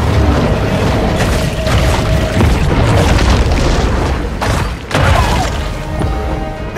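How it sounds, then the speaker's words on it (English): Torpedo explosions boom repeatedly in the Maneater video game, heavy blasts and crashing impacts layered over a rumbling underwater din, one sharp burst near the end after a brief dip. "Bet you didn't think I had torpedoes."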